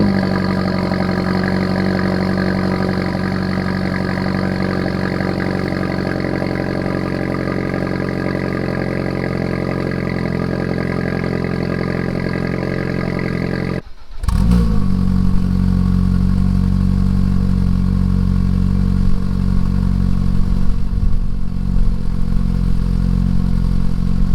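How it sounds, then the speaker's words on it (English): Renault Megane RS 280/300 with standard and aftermarket exhaust systems idling on cold start, a loud steady droning burble that cuts out briefly, then resumes with a deeper, rougher tone and occasional revs. "So I'll show you guys the before and afters of the exhaust system on cold start."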